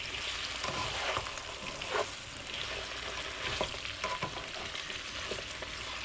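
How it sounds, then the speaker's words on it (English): Breakfast food seasoned with Italian seasoning and black pepper sizzles in a pan while a slotted spatula stirs and scrapes it, with intermittent scraping clicks over a continuous close fry, no talking. "I'm going to mix it with my slotted spatula"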